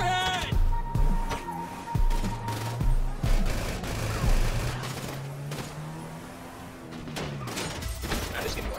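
Repeated gunfire in the video game GTA V, bursts of shots roughly every second with engine hum and other game noise underneath, and someone shouting over it.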